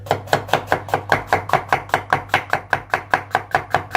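A knife chops through a kneaded kebab meat mixture for Adana and Urfa kebab on a board, in a steady quick rhythm of about four sharp chops per second, close and clear.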